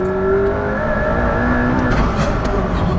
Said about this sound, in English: This car feels like it accelerates quicker